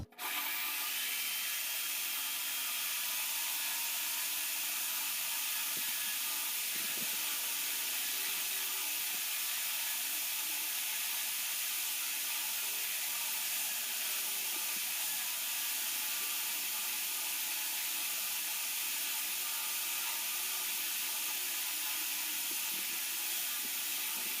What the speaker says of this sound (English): You almost let the weight of the drill press it down. You don't want to press hard or you'll crack the glass.